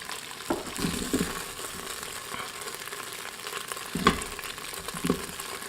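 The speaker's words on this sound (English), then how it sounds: "we're just going to let this keep on sauteing" Onions sizzle and fry in the hot pot of a pressure cooker after beef browning, a continuous close crackle with a few louder stirring scrapes and no talking.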